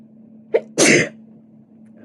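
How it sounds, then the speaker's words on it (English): A single close, loud human sneeze with a short sharp intake just before it, then a quiet room hum. "I felt that sneeze coming."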